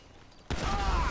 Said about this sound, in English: Oh, we got someone shooting at us.